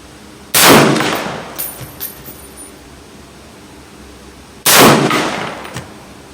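Two loud, sharp M14 rifle shots fired on a shooting range, a few seconds apart, each with a short echoing tail and faint clanks between them.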